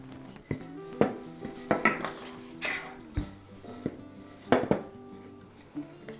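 A knife cuts rolled pie dough for Southern fried pies into pieces on a board, making irregular sharp taps and light clinks, close and fairly quiet, with no talking.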